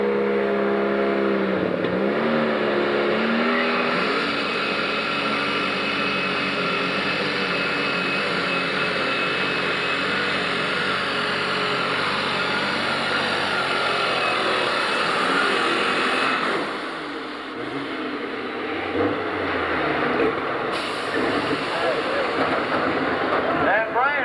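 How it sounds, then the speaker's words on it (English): Tractor pull at a 1997 Freeport, Illinois event in the 7,500 and 9,500 lb classes, a tractor engine roaring loud and steady for a long stretch, dipping briefly near the end, with announcer talk over it. "A good, strong running tractor."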